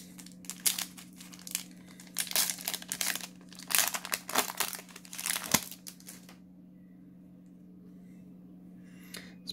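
A Yu-Gi-Oh! booster pack wrapper is torn open with loud, close bursts of plastic crinkling and crackling over several seconds, then near silence with a faint rustle at the end.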